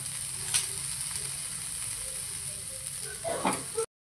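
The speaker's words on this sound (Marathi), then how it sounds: "टोमॅटो छान फ्राय झाला आहे" Chopped tomatoes sprinkled with salt sizzle steadily in an oily pan for a village-style paneer curry, a constant close frying hiss with a brief scrape of stirring near the end.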